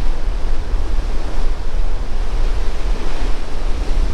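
Waves break and wash steadily along an empty beach at Chałupy in mid-July, a loud continuous roar of surf mixed with wind buffeting the microphone, no voices.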